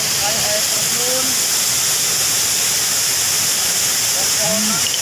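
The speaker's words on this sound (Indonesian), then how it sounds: "Dan di sana kita tuh banyak sekali air terjun" A waterfall roars with a loud, unbroken hiss in a landscape of many falls, towering trees and high cliffs. A few bird chirps rise faintly above the constant rush.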